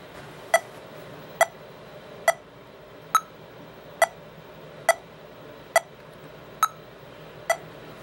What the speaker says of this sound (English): we don't play to a metronome, which sounds like this